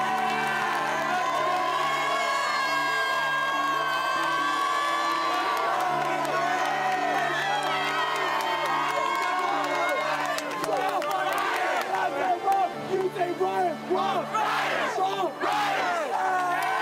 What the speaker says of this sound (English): Let's hear from the crowd.